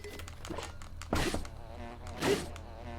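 Bees buzz in The Legend of Zelda: Breath of the Wild, a soft game-audio hum broken by two brief louder bursts of swarming drone.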